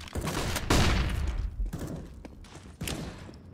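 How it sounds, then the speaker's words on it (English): In a tactical shooter video game, a flashbang grenade goes off with a loud, close burst amid scattered gunfire and thuds, followed by several fainter cracks. "Deploying flashbang"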